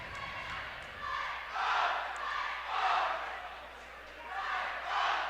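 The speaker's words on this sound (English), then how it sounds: "this crowd tonight is fired up for this game" A fired-up home crowd at a girls varsity basketball game roars in repeated swelling waves of cheers and chanting, loud and continuous through the gym.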